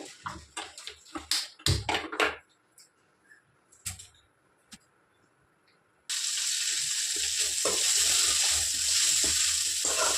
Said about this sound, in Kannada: ಎಲ್ಲವನ್ನ ಚೆನ್ನಾಗಿ ಫ್ರೈ ಮಾಡ್ಕೋಬೇಕು. ಇದು ಫ್ರೈ ಆಗ್ತಾ ಇರಲಿ.